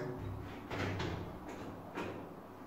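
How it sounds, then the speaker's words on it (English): A toilet door in a student dormitory bathroom is pulled shut, with a few soft thuds and rattles of the door at close range and no voices. "let me close the door"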